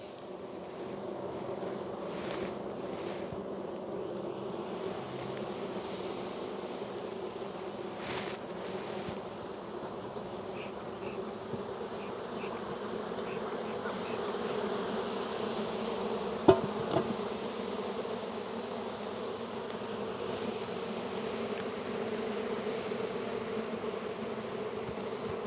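A dense swarm of honeybees hums around an open, very large beehive during a spring inspection, a continuous near buzz with faint wind noise and one brief knock, no talk.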